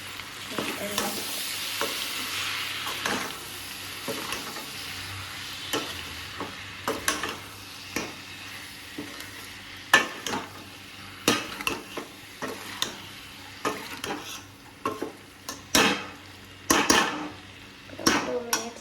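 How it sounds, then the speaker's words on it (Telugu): Mutton curry with tender tamarind leaves stirred in a pan, a spoon scraping and clacking against the metal in uneven strokes over a steady low sizzle, close and fairly loud, with no talking. "చింత చిగురు వేసాక ఒకసారి కలుపుకుందాం."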